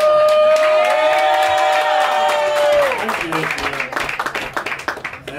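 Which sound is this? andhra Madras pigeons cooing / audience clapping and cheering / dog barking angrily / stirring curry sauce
audience clapping and cheering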